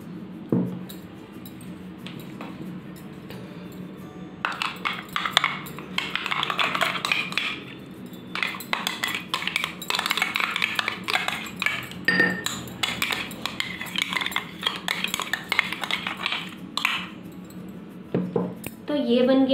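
A creamy ground banana hair mask being scooped out into a bowl, with repeated clinking and scraping of a spoon against the container in bursts, fairly close, after a quieter opening.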